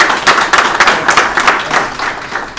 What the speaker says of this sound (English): Everybody give a warm round of applause for Mr.